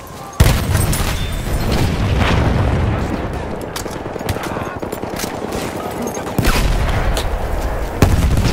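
Grenade blasts and heavy gunfire in the Battlefield 1 Argonne Forest map, a loud close boom followed by rapid automatic fire and further explosions in a dense, chaotic battle mix.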